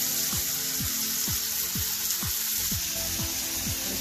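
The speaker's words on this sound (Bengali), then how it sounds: "পেঁয়াজ কুচি, রসুনের কুয়া আর কাঁচামরিচ, একসাথে ভেজে নেব মশলাটাকে" Onion, garlic and green chilli fry in a pan for a Bengali shrimp and pointed gourd mash, giving a steady, close sizzle with no break, while a few soft scraping or stirring strokes repeat about every half second.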